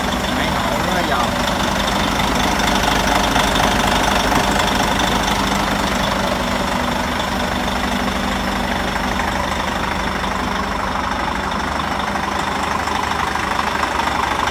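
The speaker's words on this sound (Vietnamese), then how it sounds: "máy nổ rất là giòn." A Hyundai Trago Xcient concrete pump truck's diesel engine runs at idle with a loud, steady, rattling knock, close by and continuous, while someone talks over it.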